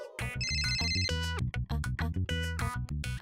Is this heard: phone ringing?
yes